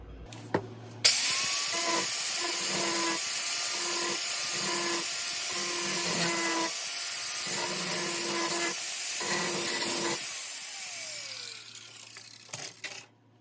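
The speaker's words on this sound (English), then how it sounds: "So let me grind this off and we'll see." A high-pitched rotary grinder whines steadily as it grinds JB Weld epoxy putty off an old Billings wrench, with rhythmic dips in pitch as it bites the workpiece, then spins down and stops.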